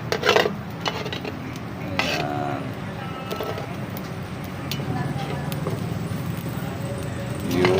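Cooked rice stirred in a pan with chicken oil from pastil for garlic-style fried rice, giving scraping and clinking of a utensil against the pan in repeated strokes, with light sizzling underneath.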